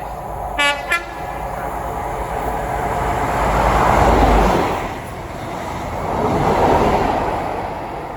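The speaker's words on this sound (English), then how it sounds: "Arriving in now is the 12:30 London North Western Railway says to Milton Keynes Central from London Euston" A London Northwestern Railway train arrives at Watford Junction on the West Coast Main Line, opening with two short horn toots before a loud rolling rumble of wheels that swells, eases and swells again as the carriages pass close by.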